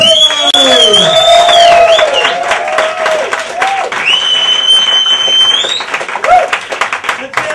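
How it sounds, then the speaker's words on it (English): A comedy club audience whoops, cheers and applauds for a comedian, with loud high whoops rising over dense clapping and crowd noise that swells and carries on throughout. "Let's get the whooping and cheering going for the one and only, the amazing Mr. Scott Capurro!"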